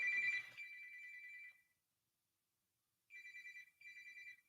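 A phone rings in short electronic trills, then falls silent for over a second before two more ringing bursts follow, clear and fairly close.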